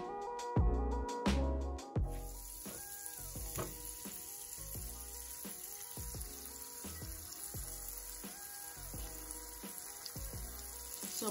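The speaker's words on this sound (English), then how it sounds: "And now I'm going to add some minced garlic." Minced garlic sizzles in melted butter in a pan, a soft steady frying hiss with a few louder clatters at the start, quiet and close with no talking.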